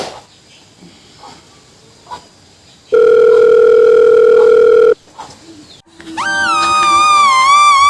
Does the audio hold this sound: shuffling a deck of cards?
no